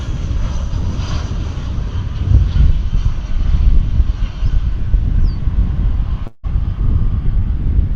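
A fixed-wing airliner, a flight from Tucson, Arizona, arrives at DFW Airport, its engines a loud, steady low roar close by with wind buffeting the microphone throughout.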